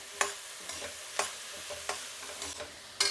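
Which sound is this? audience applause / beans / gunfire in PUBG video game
beans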